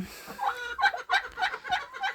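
A turkey hen at a backyard poultry farm gives a run of repeated gobbling calls in quick rhythmic bursts, close and fairly loud, with no talk.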